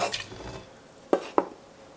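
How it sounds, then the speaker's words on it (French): A knife slicing an orange into strips for mulled wine gives two sharp, close clicks against the board a quarter second apart, after a soft earlier rustle of handling. "je suis en train de couper en lamelles mon orange"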